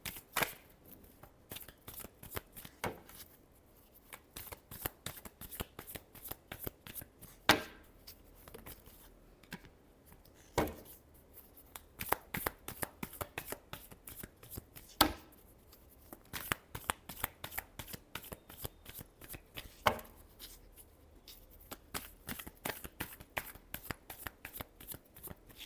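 Tarot cards shuffled by hand in a long, steady run of crisp riffling bursts, close and fairly quiet, repeating in quick rhythmic flurries with brief pauses between them.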